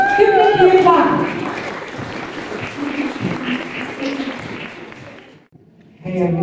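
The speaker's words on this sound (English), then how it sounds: "Give Nikki a clap." Audience applause for Nikki Murphy, a student journalist called up at an International Women's Day community event at Deaf Village Ireland. Speech runs over the clapping near the start, then steady moderate applause continues and fades to near silence before a voice resumes.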